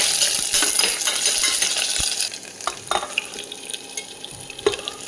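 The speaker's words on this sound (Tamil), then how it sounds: "வெங்காயம் கருவேப்பிலை வெள்ளைப்பூடு ஒரு பச்சை மிளகா இதெல்லாம் போட்டு நல்லா கலக்கிக்கிடணும்" Onion, curry leaves, garlic and green chili tossed in hot oil with popped mustard seeds, a steady sizzle followed by several sharp spoon scrapes and taps against the pan.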